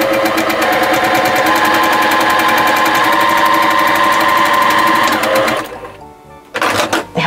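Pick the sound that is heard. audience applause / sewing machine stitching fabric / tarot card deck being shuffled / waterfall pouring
sewing machine stitching fabric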